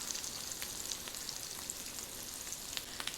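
Black bean and chickpea veggie burger patty frying and browning in a pan, giving a faint, continuous hissing sizzle with small scattered pops and crackles, with no talk over it.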